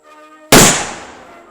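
A single sharp, loud report from an Austro-Hungarian Mannlicher carbine, a gun with ejection problems, bursting out after a faint tonal hum and ringing off into a long decaying tail.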